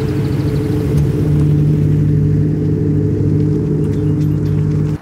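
A vehicle pulls a Timpte 720 car hauler trailer forward, a loud close steady engine rumble with a droning hum throughout, no talk.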